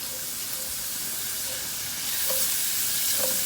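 Garlic and ginger sizzle in toasted sesame oil in a hot pan, a close, steady frying hiss that swells a little louder toward the end, with a few faint clinks of stirring.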